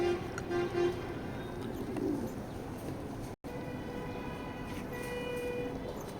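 Male racing pigeon cooing close by in a loft, a few soft low coos standing out from steady background noise and faint bird sounds.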